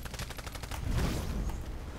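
Faint, distant bursts of rapid gunfire in the video game Titanfall, a quick rattling volley followed by duller rumbling under game ambience.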